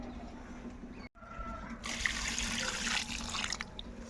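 Water poured into a neem-based organic fungicide mix, a steady rushing flow that swells louder partway through after a brief gap.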